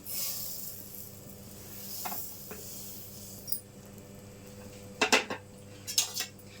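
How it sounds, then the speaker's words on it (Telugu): Wheat semolina roasting in ghee in a pan, a faint hiss beneath scattered metallic clinks and scrapes of a spoon against the pan, with a few louder clatters toward the end. "నెయ్యి వేడెక్కిన తర్వాత రవ్వ వేసి వేయించుకుందాం"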